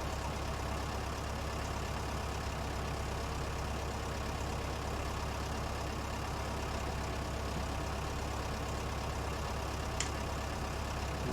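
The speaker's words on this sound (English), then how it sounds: "This little old Fiat will suffice until we can afford another tractor." Old Fiat tractor engine idling in a farming video game, a steady low rumble running evenly through the whole stretch with no speech over it.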